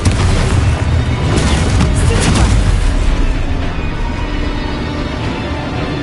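Spell explosions in Hogwarts Legacy, a dense run of loud booming blasts and bursts overlapping for several seconds without pause.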